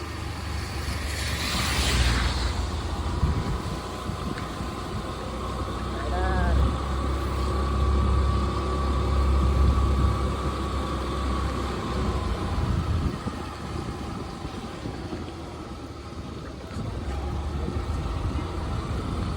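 A car engine runs with a steady low rumble through the whole drive, close and continuous, while people talk over it.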